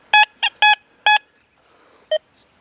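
Deus 2 metal detector responding to a lone dime outdoors: four loud high electronic beeps in quick succession, a short pause, then one final beep, close and clear with no talking.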